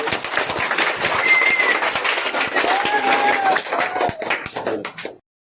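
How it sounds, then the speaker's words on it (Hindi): Children clapping loudly together for the first- and second-place winners of a kids' game, a dense, steady stretch of applause lasting about five seconds, with a few high young voices calling out over it before it stops abruptly. "तो इन सभी के लिए भी जोरदार ताली बजाओ तुम लोग।"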